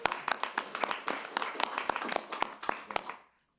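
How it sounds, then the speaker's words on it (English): A small group claps in the Oldsmar city council chamber, a quick, scattered run of hand claps that lasts about three seconds before stopping abruptly. "Yeah, that's worth an applause"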